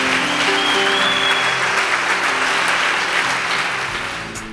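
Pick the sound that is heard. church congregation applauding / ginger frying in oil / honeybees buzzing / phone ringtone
church congregation applauding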